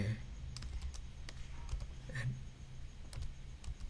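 A search term typed on a computer keyboard, with quick irregular key clicks in short bursts, close and moderately quiet over a low background hum.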